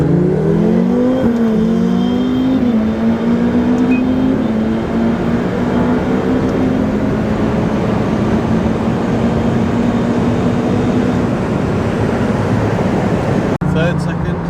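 A car engine drones steadily near and loud as the driver accelerates and shifts through third and second gears, the pitch climbing and dropping at each change, with people talking over it.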